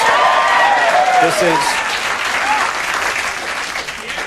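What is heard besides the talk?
studio audience applauding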